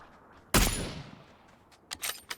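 Gunfire in the battle royale game PUBG, one sharp nearby shot followed by a fading tail, then a few quicker, quieter shots in a short cluster.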